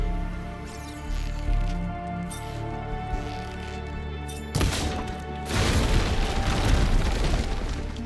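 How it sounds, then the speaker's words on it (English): A rotting wooden structure in the video game Horizon Forbidden West is shot and collapses, with a sudden heavy crash and crumbling rumble breaking over a musical game backdrop. "I think I can make that fall if I shoot the weak point."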